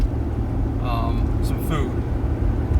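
A car driving along a road, heard from inside: a steady low engine and road rumble that fills the whole stretch, with a couple of brief faint higher chirps over it and no clear talk.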